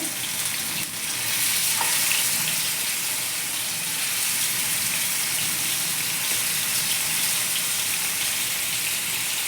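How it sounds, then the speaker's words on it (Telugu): Marinated chicken leg pieces fry in a pan over a low flame, giving off a steady, close sizzle that continues evenly throughout, with no talking. "లో ఫ్లేమ్లో పెట్టుకుని మ్యారినేట్ చేసుకున్న చికెన్ పీసులు వేసుకుని వేసుకునేస్తాము"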